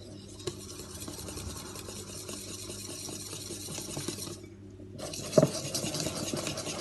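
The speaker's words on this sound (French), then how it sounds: "c'est là qu'il faut mélanger" Muffin batter with broccoli being stirred by hand in a bowl, a steady soft scraping and swishing that continues throughout, close and moderately loud, with a brief clatter near the end.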